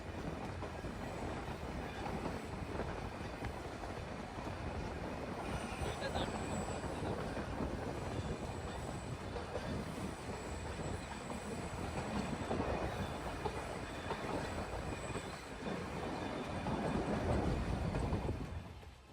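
The Nilgiri toy train runs through a eucalyptus forest toward Coonoor, its carriages rattling and its wheels clacking steadily from inside the coach, with a brief squeal. Passengers talk quietly over the continuous rolling noise.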